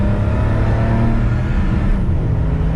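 A 1977 Porsche 911 Turbo Carrera accelerates with a loud, steady roar heard from inside the cabin, its low engine drone layered with a rising whir from the turbos.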